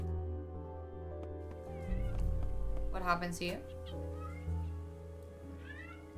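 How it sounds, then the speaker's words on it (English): A cat character in a video game lets out a plaintive meow amid music and other game sounds, with people talking over it. "The cat meows a plaintive cry."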